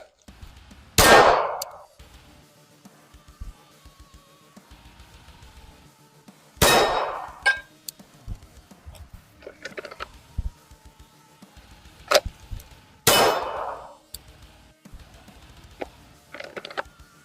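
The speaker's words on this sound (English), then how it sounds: "I'm going to put a couple of mags through it, see how it does" Three loud, sharp pistol shots from a handgun fitted with a red dot sight, spaced several seconds apart, each with a brief ringing tail, with faint clicks and handling noises between them.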